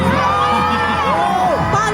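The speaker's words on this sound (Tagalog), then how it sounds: "Hiyaw naman kayo dyan!" A large audience at a Barrio Fiesta event in London cheers, whoops and yells loudly, with overlapping shouts and rising calls from many voices close and continuous.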